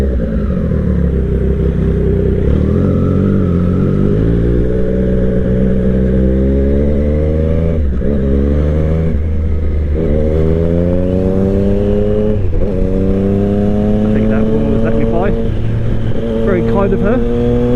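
A Triumph 765RS motorcycle fitted with an SC Project exhaust and quickshifter, ridden on open roads, its engine loud and close, rising through repeated rev climbs with sharp drops at gear shifts, under wind rush and occasional talk.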